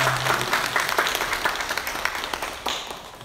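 A church congregation at a Korean Sunday worship service breaks into steady, dense applause that fills the hall for a few seconds, then tapers slightly.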